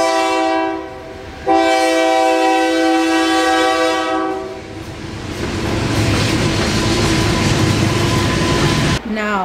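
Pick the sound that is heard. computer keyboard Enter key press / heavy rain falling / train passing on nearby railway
train passing on nearby railway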